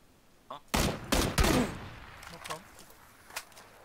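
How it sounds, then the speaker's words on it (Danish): Gunfire in the battle royale game PUBG: a few sharp, loud shots in quick succession, then fainter scattered pops, with voices talking over them. "Er det altså skjøtt på oss, da?"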